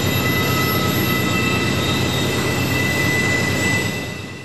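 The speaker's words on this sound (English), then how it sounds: "This is NS 257, a daily intermodal service from Baltimore to Chicago" NS 257, a daily intermodal freight train from Baltimore to Chicago, rumbles loudly and steadily around Horseshoe Curve, with droning engine tones and rolling wheel noise that ease off slightly at the end.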